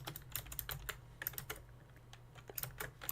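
Soft, quiet clicking of a computer keyboard as someone types code, irregular keystrokes in short runs with brief pauses, no voice over it.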